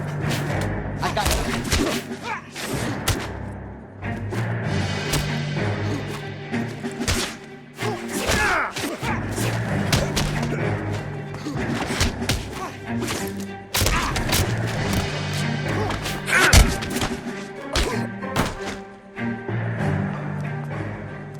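Fistfight in the 1940s Los Angeles crime game L.A. Noire: repeated dull punches and thuds, with scuffling and grunts mixed into a busy, continuous scene that also holds voices.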